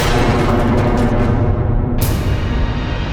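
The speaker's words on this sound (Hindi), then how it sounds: "ये तो दशानंद की गदा की ध्वनि थी स्वामी।" A heavy, booming impact with a dense, rumbling roar that fills the whole clip, loud and close, like a massive weapon striking.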